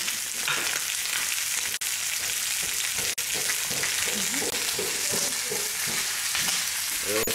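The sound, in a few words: chicken browning in a pan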